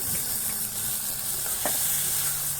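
A ground paste of ginger, garlic, fresh and dried chili goes into chicken for yogurt chicken cooked in a village kitchen, giving a steady loud sizzle and hiss with faint stirring scrapes.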